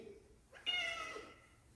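A male cat gives a single close, clear meow, short and rising, in a quiet room.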